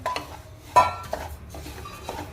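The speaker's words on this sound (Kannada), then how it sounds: "ಸ್ಟವ್ ಆನ್ ಮಾಡಿ ಬಾಂಡ್ಲಿ ಇಟ್ಟಿದ್ದೀನಿ ಬಾಂಡ್ಲಿಗೆ ಅಕ್ಕಿ ಹಾಕೊಂಡು ಹುರ್ಕೊಳ್ಳೋಣ" Rice being dry-roasted in a pan on a stove, with metal scraping and clinking of a spoon against the pan, one sharper clank, and light stirring rustles, fairly quiet and without talk.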